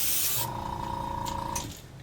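An airbrush hisses a short, close burst of blue paint onto a blank fishing lure, with a faint steady mechanical whine under the spray that fades at the end.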